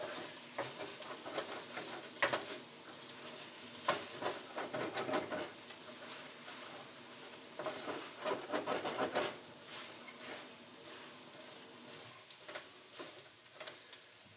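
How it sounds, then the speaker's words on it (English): Sri Lankan noodles with vegetables are stir-fried in a pan, giving a soft sizzle broken by bursts of scraping and tossing stirs, close and fairly quiet, with no speech. "And then obviously we stir this all up,"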